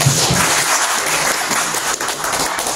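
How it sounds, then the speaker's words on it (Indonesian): Steady audience applause fills a formal hearing between a Jakarta community forum and a Chinese-Indonesian association, dense clapping holding at constant loudness with no voices over it. "berikan tepuk tangan kepada"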